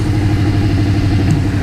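A motorcycle of about 140 horsepower and 240 kg idling nearby, a steady low rumbling engine note with a faint mechanical clatter, even and close throughout this short stretch.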